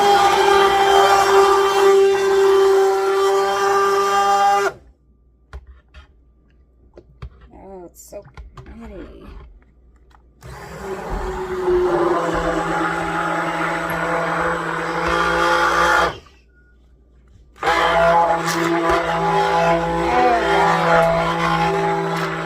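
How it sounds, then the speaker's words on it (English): Immersion blender mixing cold process soap batter, whirring in loud bursts of several seconds separated by short pauses, with someone talking during the quiet gap. "All right, I got my immersion blender. We're gonna mix it up a little."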